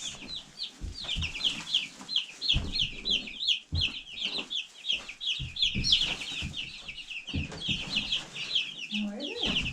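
Baby chicks peep continuously in their pen, a dense stream of high chirps near the microphone, with occasional clucks, thumps and handling noises underneath.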